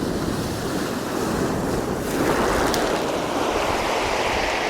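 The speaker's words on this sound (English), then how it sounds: "The waves are going crazy." Stormy ocean surf crashes and roars continuously under heavy wind buffeting the microphone, loud and close on an exposed shore.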